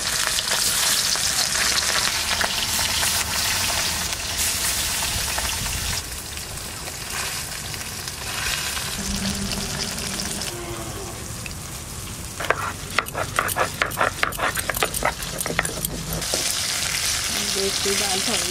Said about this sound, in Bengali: এবার মাছ ভাজবো, কড়াইতে দিয়ে দিচ্ছি